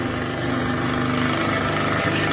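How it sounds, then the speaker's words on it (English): Pulsing water from a hot-water sink faucet rattles the plumbing with a loud, steady, engine-like juddering hum. It holds close and continuous with no voices. "That is the water faucet. I'm washing my hands, and suddenly the water gets all staccato, and the water is like, it's like pulsing coming out"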